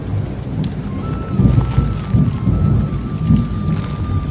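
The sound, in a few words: thunder and heavy rain outside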